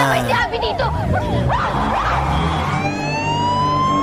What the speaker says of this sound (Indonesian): terdengar sirine ambulan yang datang bersama Tina